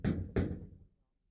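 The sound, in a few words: knocking on a door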